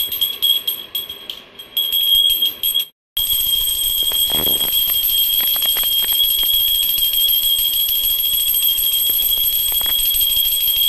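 A brass puja hand bell rings continuously during a food offering to the deity, its bright, sustained metallic tone loud and close. It breaks off for a brief moment near the start, then resumes steadily with no talking.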